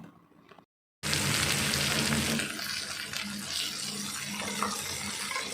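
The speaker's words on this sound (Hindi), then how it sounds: "मिर्च को अच्छे से भूनते जाएंगे।" Green chillies fry in a pan for mirchi thecha, giving a steady, loud sizzle that starts abruptly after a brief quiet gap and continues without talk.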